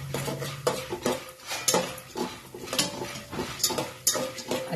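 Popcorn kernels with turmeric are stirred in a pan, giving repeated close rattles, clinks and scrapes of kernels and spoon against metal in an uneven rhythm.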